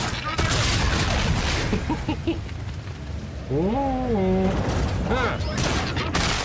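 Enemy gunfire in the video game Call of Duty Infinite Warfare crackles in dense bursts across most of the stretch, mixed with game effects and a rising electronic tone, while a player exclaims briefly over it.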